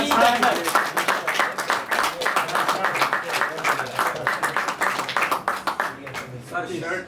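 An audience at a mushaira poetry gathering gives dense, sustained applause that fills the whole stretch, with a voice talking over the clapping.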